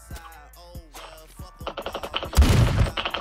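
Scarhammer rifle in Roblox Phantom Forces firing a quick burst of loud shots near the end, after a stretch of quieter game sounds.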